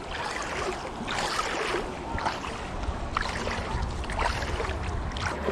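Rapids rush and churn along the Dosewallips River while rafting, a dense, close roar of turbulent water with surging bursts and wind buffeting, no talk.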